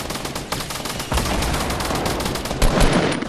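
Sustained video game gunfire in a battle royale match with crossbows: loud, rapid automatic bursts that pour on continuously and grow heavier toward the end, with no voices.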